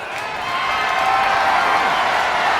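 Arena crowd roaring and cheering during a WWE 2K25 wrestling match, a steady dense wash of many voices that swells slightly and holds loud throughout.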